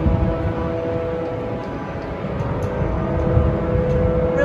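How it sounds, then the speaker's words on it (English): Race cars practicing at Daytona Speedway heard from nearby outside the track, a distant continuous engine drone with faint tonal whine, steady and moderately loud beneath a rumbling background, with no talking. "we are right next to the Daytona Speedway, and those are cars practicing."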